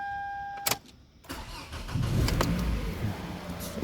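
A car engine cranks after a starter repair with a new carbon brush: a click and brief crank, then the engine catches and settles into a steady, close idle.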